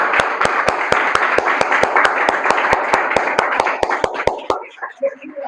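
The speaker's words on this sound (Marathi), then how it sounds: "आपण प्रभू येशूंसाठी खूप जोरदार आपण टाळ्या" Worshippers at a church gathering clap hard in a steady, even rhythm, about four beats a second, loud and close over a murmur of voices before the clapping stops and scattered sounds remain.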